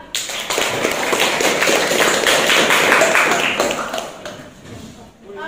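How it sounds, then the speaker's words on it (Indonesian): A class applauds student group 2 after their presentation in a school lesson, a dense, loud burst of clapping lasting several seconds before fading out near the end. "Tepuk untuk kelompok 2"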